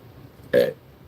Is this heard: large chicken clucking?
no